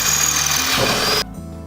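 A power tool widens the back hole of a small camera mount adapter so a tripod-thread nut fits, a loud steady whirring grind that cuts off abruptly near the end, leaving a quieter hum.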